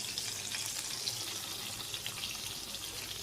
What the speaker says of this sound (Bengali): এখন এই যে মশলাটাকে কষাচ্ছি